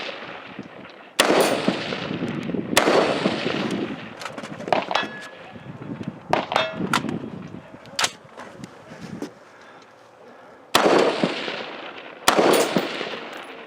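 Gunshots on a tower stage at a two-man shooting competition: loud, sharp reports in irregular clusters and single shots with echoing tails, close to the listener, no talk audible.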